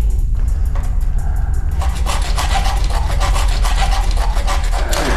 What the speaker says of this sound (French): J'ai coupé l'os en 3 morceaux.